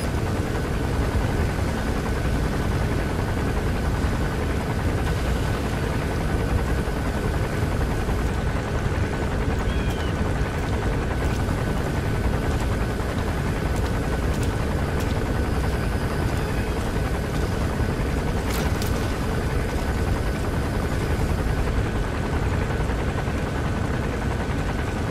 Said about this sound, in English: Chopper landing. It must be carrying the arms dealer.